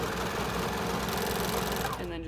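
A sewing machine runs steadily up close, stitching a seam on a raglan sweatshirt with a fast even mechanical chatter, then slows and stops near the end.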